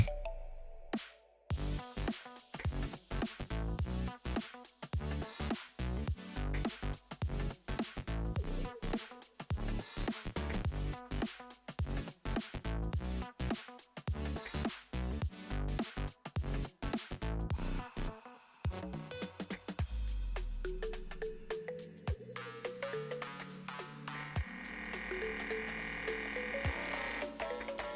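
Rapid, loud electronic PC speaker beeps and buzzing tones chatter in irregular bursts as SpinRite II tests an old Seagate hard disk, shifting to warbling pitched tones near the end, with scratchy disk-seek clicks mixed in.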